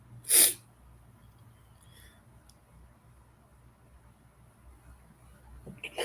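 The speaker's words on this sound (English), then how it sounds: "it has been tingling to make me sneeze" One sharp, loud human sneeze bursts out right at the start, followed by quiet breathing and faint room noise.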